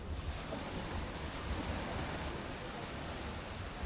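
Sea waves washing up on Cox's Bazar beach at night, a steady low continuous roar of surf with some wind noise and no clear separate breaks.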